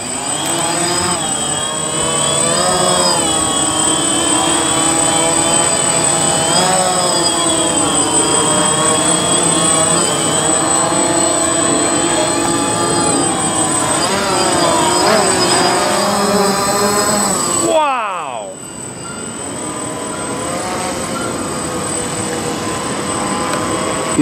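A DJI Phantom quadcopter drone hums steadily with a bright whine and layered rotor tones, loud and close throughout, then briefly cuts out and resumes at a slightly lower pitch.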